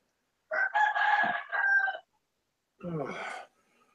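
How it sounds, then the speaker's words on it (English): A pet rooster crows close by in one long, loud cock-a-doodle-doo, followed after a short silence by a second, briefer call. "oh, you mean my pet roosters?"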